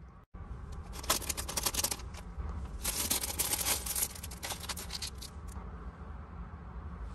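Crinkling and rustling of a thin plastic bag from a Lego minifigure pack being handled and torn open, with bursts of scratchy crackles close to the microphone.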